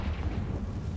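A Confringo blasting curse goes off in Hogwarts Legacy, a single short, heavy, rumbling blast that fills the whole moment, loud and close with no voices over it.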